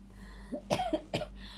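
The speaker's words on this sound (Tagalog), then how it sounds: "Pasensya na, lagi akong inuubo." A few quick, quiet coughs come in a short cluster over a faint background hum.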